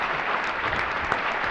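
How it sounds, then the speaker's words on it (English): A short burst of applause from an audience at an ocean voyaging summit, dense and steady with no voices over it. "Nice round of applause"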